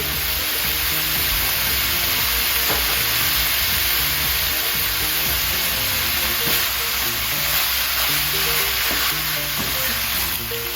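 Pork being stir-fried with curry paste and fish sauce in a hot pan, a loud steady sizzle and frying hiss with occasional stirring scrapes, continuous throughout with no talking.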